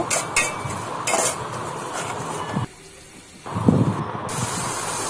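Onions sizzle and hiss in a hot pan with salt added, broken up by scraping and clinks of a spoon as they are stirred. The sound stops briefly partway through, then the sizzle returns loud and close.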